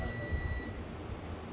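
A multimeter continuity tester beeps as its probe touches ground on a mobile phone circuit board. It gives a single thin, high tone that lasts about half a second and then cuts off, leaving a low, faint hum.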